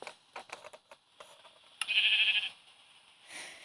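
Sheep in Minecraft letting out one short bleat after a run of quick clicking taps, then a fainter second bleat, close and clear against silence.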